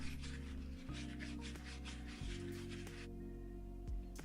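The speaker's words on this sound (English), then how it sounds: "sanded the shaft and the tip, and also sanded the body to make it nice and smooth" Sandpaper rubbing over the shaft, tip and body of an old screwdriver in a series of close, steady strokes with soft rasping texture over a low background hum, no voices.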